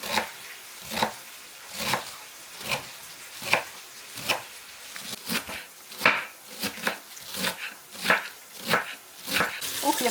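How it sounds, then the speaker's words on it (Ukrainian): A knife chops through cabbage on a board in an irregular run of sharp, crisp cuts that repeat for about ten seconds, heard close. "І поки цибуля смажиться, нарізаємо швиденько капусту."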